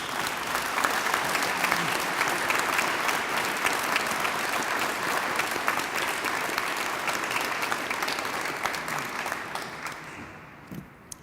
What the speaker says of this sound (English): Please let's again give them all a round of applause.